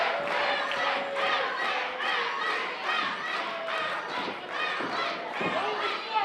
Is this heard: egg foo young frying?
no